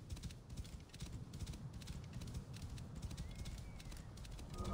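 A horse gallops in the video game Assassin's Creed Origins, with steady rapid hoofbeats over a busy background of in-game ambience throughout.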